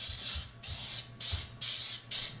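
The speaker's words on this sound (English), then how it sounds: "I use Pam baking spray. Cooking Spray." Five hissing bursts of cooking spray from an aerosol can, each about a third of a second, spaced evenly and close by.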